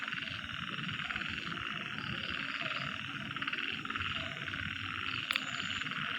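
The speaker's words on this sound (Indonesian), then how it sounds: "iya suara kodok" Frogs croak in a dense, continuous chorus around a house at night, a steady buzzing pulse that fills the whole stretch with no pauses and no talk.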